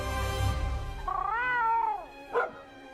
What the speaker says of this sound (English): I really did hear that Palico sound